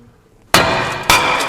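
Two hard hammer blows on a Jaguar XF rear brake disc, close and loud, each with a bright metallic clang and ringing tail.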